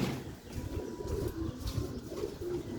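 Sialkoti silver pigeons coo in a loft, the low repeated cooing fairly close and steady with faint rustling, no talk.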